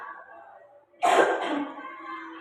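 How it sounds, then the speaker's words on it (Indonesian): A woman coughs loudly partway through her talk, a short harsh burst followed by a rough trailing breath, with her speech before and after it. "Ini sambil ada selingan batuk-batuk sedikit, nggak apa-apa."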